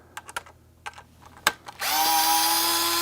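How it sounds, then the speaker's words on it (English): DeWalt electric screwdriver backing screws out of a 3D printed part, a few sharp clicks and taps first, then the motor whirs up into a steady, loud, high whine that holds to the end. "Another thing is this DeWalt is a big deal. This electric screwdriver saves me from going crazy."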